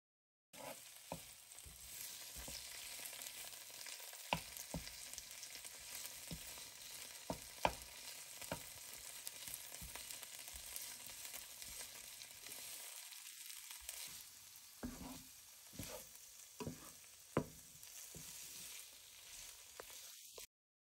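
Masala frying with two tablespoons of Thai red curry paste, a continuous close sizzle in the pan broken by repeated clicks and scrapes of stirring, with a short quieter gap midway and no voices.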